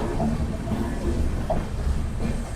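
East Coast Express (Hyderabad–Shalimar) train running on a parallel track alongside a moving passenger train, a continuous heavy rumble with faint wheel clatter, close and steady, no talking.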